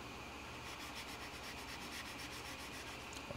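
Soft, steady rubbing strokes from sanding parts of a 1/48 Tamiya F-4B Phantom scale model kit, repeating in a quick even rhythm, quiet and close with no talk.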